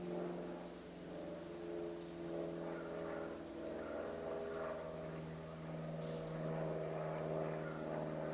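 Steady droning hum of an airplane's propeller engine, a continuous low tonal drone with layered harmonics holding level throughout, heard from inside or near the aircraft with no talking.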